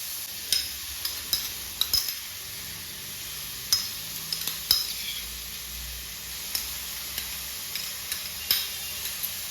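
Onion, finely chopped tomato and green chillies frying in a pan for whole moong dal make a steady soft sizzle, punctuated by sharp metallic clinks and scrapes of a spoon against the pan.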